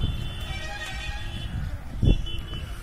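Horses at a film shooting range near Ooty: a distant whinny carries faintly over a steady low outdoor rumble, with a short louder thump or snort near the middle, and no talk over it.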